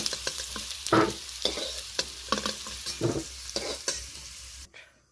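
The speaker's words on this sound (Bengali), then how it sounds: "আলুটা বেশ লালচে করে আমি ভেজে নিলাম।" Potatoes fry in oil in a wok with a steady sizzle, broken by repeated scraping stirs in an uneven rhythm, up close and without any voices.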